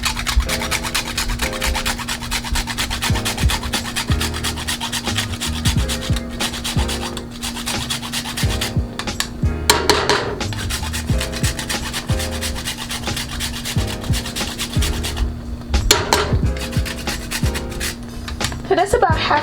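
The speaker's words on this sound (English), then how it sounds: "And then I'm going to add the nutmeg" Whole nutmeg grated by hand in a kitchen for Guyanese pine tarts, a continuous rhythmic scraping and rasping close by, steady and fairly loud throughout.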